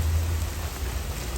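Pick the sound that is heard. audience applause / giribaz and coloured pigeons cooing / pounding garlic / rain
rain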